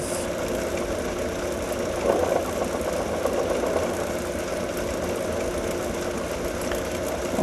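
Lapidary wheel grinding a bubble opal cabochon: a steady, droning motor hum with a continuous gritty grinding texture, even and unbroken throughout, close and moderately loud, no talking.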